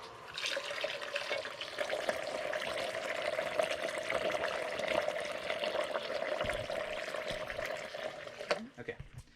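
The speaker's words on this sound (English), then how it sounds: "And now we are flushing the water heater." Water drains steadily from a residential water heater being flushed through a hose toward a floor drain, a continuous rushing flow with a faint tonal hum running through it, near and moderately loud.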